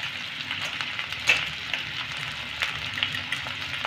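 Pointed gourd (potol) and potato pieces fry with a pinch of salt in a pan, a soft, steady sizzle with small crackles and pops scattered through.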